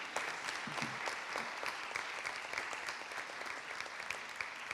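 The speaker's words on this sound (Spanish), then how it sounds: "Vamos a darle un aplauso, por favor" Applause from an audience, even and continuous throughout, moderately loud with no talking over it.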